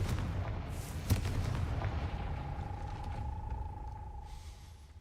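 A Confringo blasting spell in a video game goes off with a single deep boom about a second in, over a rumbling background that fades away. A thin sustained tone follows, with no talking.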